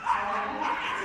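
A working cocker spaniel barks during a small/medium championship agility jumping run at Crufts 2026, a short, sustained bark close up against arena noise.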